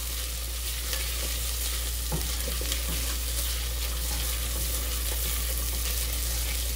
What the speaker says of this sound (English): I'm still cooking the peppers because what I like to do, I just like to keep tossing them around.